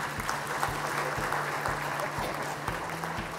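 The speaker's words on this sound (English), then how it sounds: "A big round of applause for them," Steady applause from an audience at an architecture conference session, a dense wash of clapping that holds at an even level throughout, with a low hum underneath.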